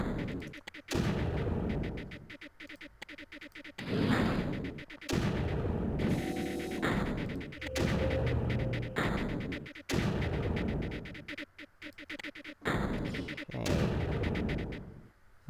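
Repeated mortar launches and impacts in the strategy game Creeper World, a string of dull booming bursts arriving every second or two, fairly loud and steady with no voice over them.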